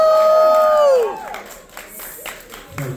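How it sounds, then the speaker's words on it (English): A crowd at a live rock show at The Echo cheers, whoops and claps loudly, the roar dropping after about a second and giving way to scattered claps and shouts. "How about a big round of applause for all the bands that played so far?"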